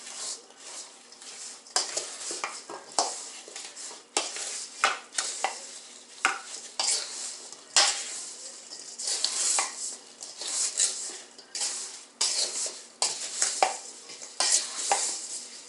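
Sliced apples are tossed with cinnamon in a bowl, a spoon repeatedly scraping and clattering against the dish in quick uneven strokes, close and fairly loud, with no talking.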